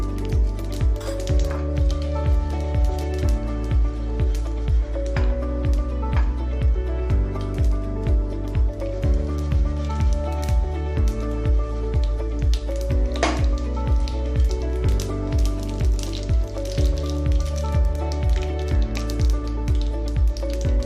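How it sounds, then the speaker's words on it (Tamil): Mustard seeds spluttering in hot oil on a stove while tempering for a mint chutney: a steady crackling sizzle runs throughout, partly masked by looping rhythmic background music. "கடுகு பொரிஞ்சிருச்சு."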